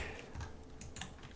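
Soft keyboard typing with frequent shift presses while modelling in Blender, a few faint taps over a steady hiss, with no talking.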